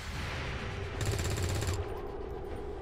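A burst of rapid automatic gunfire in the turn-based strategy video game XCOM 2, lasting under a second over a continuous background of game ambience and music, fairly faint and without speech.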